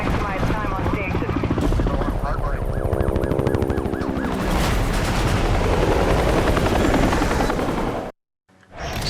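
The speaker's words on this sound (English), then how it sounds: "the helicopter is now level 3" A police helicopter in a cinematic from the racing game Need for Speed Hot Pursuit Remastered thumps steadily with rotor chop amid sirens and dramatic effects, loud and continuous, ending in a brief silence.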